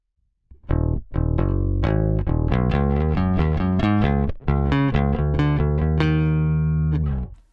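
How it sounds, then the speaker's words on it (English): Clean direct-input ML USA bass guitar with no cabinet or distortion, a bright, plucked sequence of round notes played steadily for several seconds before ringing out. "let's go back to the DI sound"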